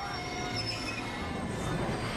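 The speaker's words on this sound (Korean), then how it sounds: "휴고는 마치 전날 악몽 속에서처럼 기차에 치일 위기에 처하고 마는데요" A train rolls along the railway tracks with a constant heavy rumble and high, sustained wheel squeal, loud and close for the whole brief stretch.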